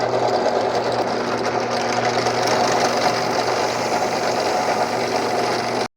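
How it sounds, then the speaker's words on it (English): A power drill bores 5/16 inch holes in PVC rocket motor parts held in a vise, a loud, steady motor whine with grinding vibration running unbroken for several seconds before stopping abruptly. "it says to drill those holes 5/16 of an inch"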